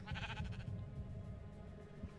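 Sheep bleating in the Minecraft video game, a few wavering bleats at the start over a steady backdrop of game music and ambience, moderately loud throughout the short stretch.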